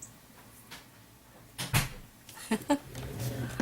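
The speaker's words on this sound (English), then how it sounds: "Could you please shut your door?" A door is pushed shut indoors with a couple of firm knocks and thuds, followed by softer handling clatter, as someone speaks nearby.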